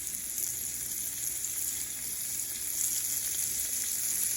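Seasoned venison backstrap frying in a hot pan, giving a steady, close hiss and crackle that stays even throughout with no talking.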